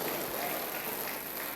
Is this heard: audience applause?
yes